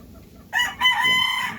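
A rooster crows loudly and close by among hens kept for breeding eggs, with clucking running underneath; the call starts abruptly after a quiet half second and holds through to the end.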